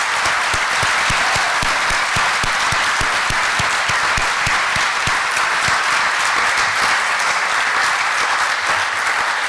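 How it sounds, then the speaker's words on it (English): Loud, dense audience applause fills a hall at an arts prize evening, a steady roar of many hands clapping together without a break from start to finish. "And Craig, would you kindly stand so we can applaud you?"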